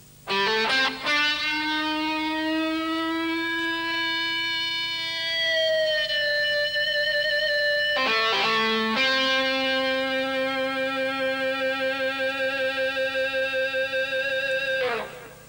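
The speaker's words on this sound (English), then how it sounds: "And then in the mixed modes, the guitar sounds like this." An electric guitar with a Fernandez Sustainer in mixed mode sustains long, wailing distorted notes with shifting overtones and slow pitch bends, loud and continuous with a siren-like quality, and no voices.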